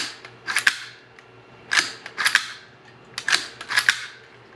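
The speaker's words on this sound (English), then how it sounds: "So you'll see the reset here, reset, and as it come forward, you'll be able to fire it." CMMG .22 LR rifle trigger being worked through its reset and fired, giving sharp, close clicks in three pairs at an even pace, with nothing else heard.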